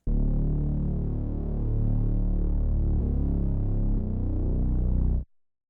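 A dry synth bass in Vital with no EQ, so the highs stay in, plays a sustained buzzing line with small note changes for about five seconds before stopping abruptly, alone and fairly loud.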